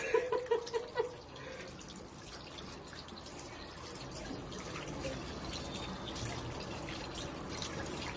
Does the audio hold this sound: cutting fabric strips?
no